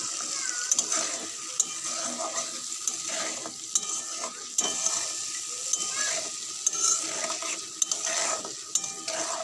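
Green chillies fry in a pan with spices for a vegetable khichdi, a steady close sizzle broken by repeated sharp scrapes and clinks of a spoon stirring against the metal.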